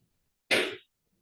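A single short sneeze bursts out abruptly against near silence, sharp and breathy, lasting under half a second.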